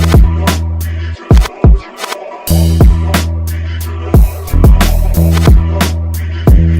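A producer's beat plays back on a livestream: hard-hitting drums with punchy kicks and sharp snares over a sustained low bassline and a crisp mix. Full and loud throughout, with a few brief drops where the bass cuts out.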